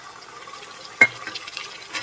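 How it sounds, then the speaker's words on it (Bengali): Ginger-garlic paste and onion paste stirred and fried in a pan for Bengali mutton kosha; a single sharp scrape of the spatula against the pot, then soft sizzling and light stirring, close and fairly quiet. "ভালো করে মশলাটাকে নেড়ে ছেড়ে কষিয়ে নিচ্ছি আদা রসুনের পেস্ট আর পেঁয়াজের পেস্টটাকে ভালো করে"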